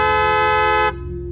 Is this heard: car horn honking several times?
yes